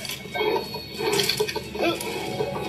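Bursts of splashing, sloshing water in the Tomb Raider multiplayer game, on an underground map, rise and fall in a few waves over a steady low background hum, moderately loud and close.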